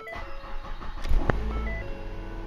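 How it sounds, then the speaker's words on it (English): A 2010 Ford Fusion engine cranks briefly and catches, settling into a low steady idle, close by with no talking. "we were going to start the car up now"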